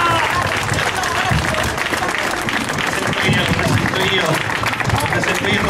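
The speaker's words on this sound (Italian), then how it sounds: "Io godi degli applausi" Applause from a crowd at a political rally in Misterbianco, loud sustained clapping with voices and cheering mixed in.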